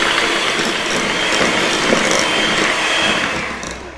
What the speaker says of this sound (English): we're going to cream together our butter and our sugar